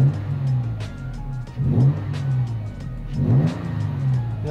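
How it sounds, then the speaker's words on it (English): Car engine fitted with a new mass air flow sensor revving twice, each rev a quick smooth rise and fall over a steady idle, heard close with no talking. "I feel actually the engine runs a little bit more smooth"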